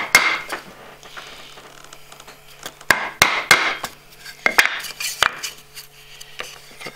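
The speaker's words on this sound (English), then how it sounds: "Now we'll chop out that waist." A chisel chopping dovetail waste out of a wooden board, a series of sharp close knocks in irregular bursts with a few bright wooden cracks between quieter gaps, loud and near with no voices.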